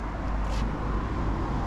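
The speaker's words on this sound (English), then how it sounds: "Highways down here are very loud." A van driving on a noisy highway, a steady low road rumble and tire roar filling the short stretch without a break.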